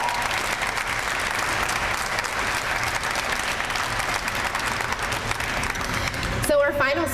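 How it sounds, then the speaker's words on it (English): An audience at a press conference for International Overdose Awareness Day applauds first responders, with steady, dense clapping throughout before a voice starts speaking near the end. "Can we just give our first responders another round of applause?"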